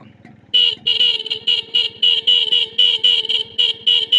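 A loud, close motorbike horn honks repeatedly in short, evenly spaced bursts over a running engine.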